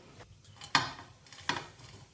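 A Cookeo cooking pot set back into its cooker base: two distinct metallic clunks a moment apart, close and sharp, with quiet rustling between.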